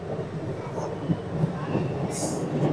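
A sleeper-class train, the 12327 Upasana Express, rumbles steadily along the tracks, a constant low clatter filling the whole stretch, with a brief hissing burst near the end.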